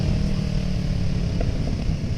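A Kawasaki ER6N motorcycle engine hums under light throttle while riding along quiet back roads in the morning. The low, steady drone sits close and constant, with no speech.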